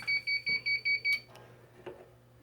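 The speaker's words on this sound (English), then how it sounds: "I have this set at 60 seconds, so that beep means that we've had this down for 60 seconds." A heat press timer sounds six quick, evenly spaced electronic beeps, clear and close, then stops, leaving faint room noise and light handling sounds.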